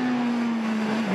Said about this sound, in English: Good rhythm as well for Vyshin on board the Skoda S2000.